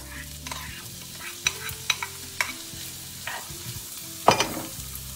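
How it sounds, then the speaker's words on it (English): Butter sizzles and crackles in a hot frying pan, with scattered sharp taps and scrapes of a utensil against the pan and a steady low hum beneath. "now I put the butter on the pan"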